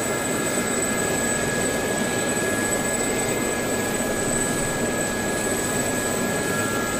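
Sa-342 Gazelle light helicopter in the DCS combat flight simulator, its small turbine engine running as a steady, loud whine and rotor hum. A high, constant tone rides over broadband noise with no gaps or talking.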